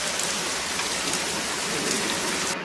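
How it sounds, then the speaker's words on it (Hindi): Heavy rain pours steadily and loudly on an outdoor surface, a dense, even hiss of drops that continues without break and with no voices. "अब बारिश और भी तेज हो रही है जी"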